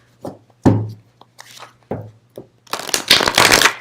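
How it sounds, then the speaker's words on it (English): A deck of tarot or oracle cards is shuffled by hand: a few sharp riffles and taps, then a longer, dense ruffling burst of cards at close range. "I'm gonna hard shuffle on that."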